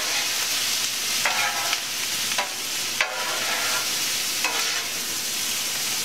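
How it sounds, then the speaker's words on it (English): Bowfin fish fries in grease and butter on a Blackstone flattop griddle, giving a continuous loud sizzle. A few scraping spatula strokes cut through it, close up. "I'm fixing to drag this fish down here where there is some grease and some butter."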